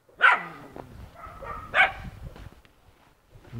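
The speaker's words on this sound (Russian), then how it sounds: "То, что все гавкают." Dogs bark along a snowy residential street, two sharp barks about a second and a half apart followed by quieter yips and whimpers, moderately close.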